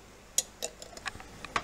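A spoon clattering against dishes while a wrap with egg, grilled veggies and salsa is assembled: a few light, sharp clinks and ticks scattered unevenly, close and quiet, with no talking.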